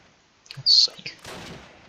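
Gunfire in the wargame Close Combat: Last Stand Arnhem, with a short burst of reports followed by a rougher, noisier crackle of shots, fairly close and moderately loud, and no talking over it.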